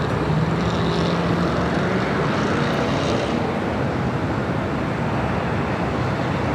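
A Boeing 737-900ER takes off from runway 25 right at Los Angeles International Airport, its engines giving a steady broad roar heard from a distance, with no voices.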